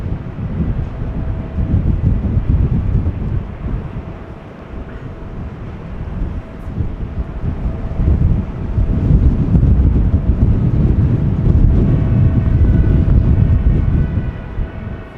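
Wet, gusty wind roars across the microphone at Amsterdam Schiphol Airport, a loud rumbling buffet that swells and eases, with a faint engine-like hum near the end.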